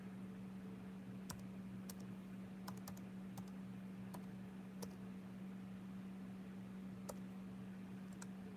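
Someone types a login password on a computer keyboard: sparse, separate key clicks at an irregular pace over a quiet room hum, close and crisp.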